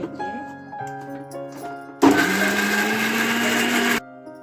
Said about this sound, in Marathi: हे आपल्याला मिक्सरला बारीक वाटून घ्यायचे,